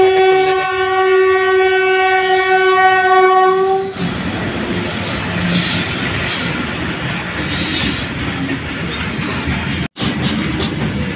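A train horn blares loudly at a railway crossing, then the train rolls past close by with heavy rumbling, clattering wheels and squealing metal, continuing steadily to the end.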